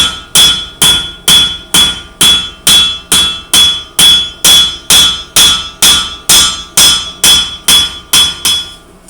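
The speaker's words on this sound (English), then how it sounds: "I'm just going to run the hammer along." A hammer strikes a blade again and again, working toward its edge. About sixteen sharp, ringing metallic blows land in a steady rhythm, loud and close, with no talking.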